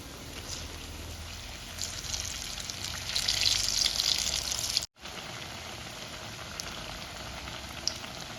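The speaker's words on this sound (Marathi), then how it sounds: "बटाट्याची भजी आपली तळली तळली जात आहे" Potato bhaji pakoras deep frying in a pan of oil, giving a continuous close bubbling hiss that holds steady throughout, with a brief break partway through.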